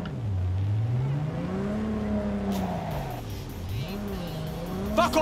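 A Mizutani car in the video game Cyberpunk 2077 drives with a continuous engine drone whose pitch rises and falls smoothly as it revs and shifts. A faint clicking appears near the end, with no talk.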